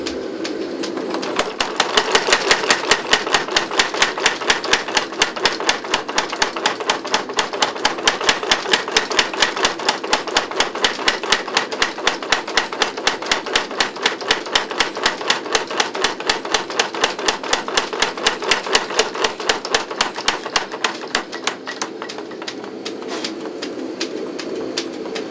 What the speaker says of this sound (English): Okay, I'm coming back to that trip hammer